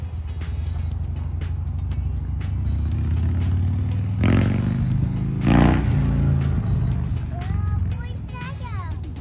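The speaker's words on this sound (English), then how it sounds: "Yeah, motorcycle." A motor vehicle engine rumbles steadily and swells as it passes nearby, with a louder surge midway, over constant road noise.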